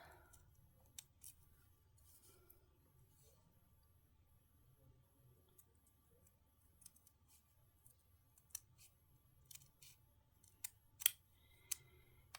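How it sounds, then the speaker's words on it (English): Scissors cutting craft paper for a miniature house kit, quiet snips and crisp clicks scattered irregularly, growing sharper and more frequent toward the end, over a faint low hum. "I will just use my scissors to give us some straight lines, straight edges"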